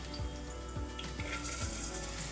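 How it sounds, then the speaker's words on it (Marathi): Onion and crushed garlic fry in a pan with a soft, steady sizzle, heard alone and fairly faint, with a few low scraping knocks of stirring at regular intervals. "आता कांदा आपल्याला छान तांबूस रंगावरती परतून घ्यायचा आहे इथं।"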